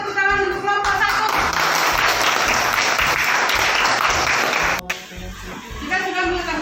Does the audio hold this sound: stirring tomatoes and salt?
no